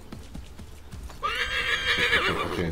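Hooves clop in a steady rhythm in the video game Assassin's Creed III, then a horse gives a loud, drawn-out neigh that carries to the end.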